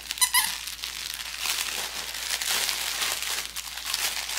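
A squeaky dog toy, part of a corgi's birthday toys, gives a few quick high squeaks near the start, followed by soft crinkling and handling rustles, heard close up and with no talking.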